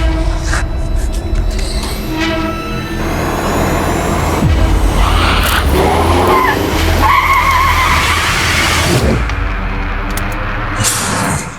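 A car swerves and skids to cut in front of another car on the road. The tires screech loudly and engines roar for several seconds, with brief shouting mixed in.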